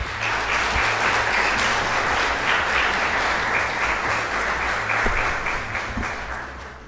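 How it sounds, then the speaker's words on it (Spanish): A steady, loud round of applause from a conference audience at a university lecture on accessibility in distance education, sustained throughout and tapering slightly at the end, with no talk over it. "Lo recibimos entonces con un fuerte aplauso al doctor Sergio Luján."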